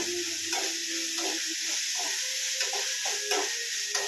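Avarekalu (field beans) being fried in a pan with a continuous loud sizzle, broken by occasional stirring scrapes and light ticks, and no talking.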